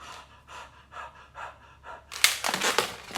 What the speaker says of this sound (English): You can breathe on it.